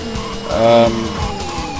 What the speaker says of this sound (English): The tyre screech isn't as annoying as it was in the original Outrun